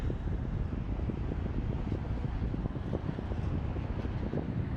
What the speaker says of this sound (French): Et il y a du vent, hein. Je pense que vous l'entendez dans les micros.